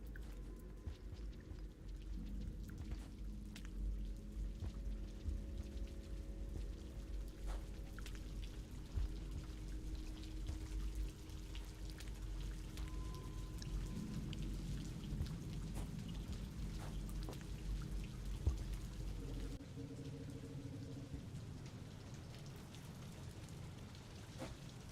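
An approaching rain storm in the video game Rain World brings a steady wash of rain with low rumbling thunder beneath, continuous and moderately quiet throughout.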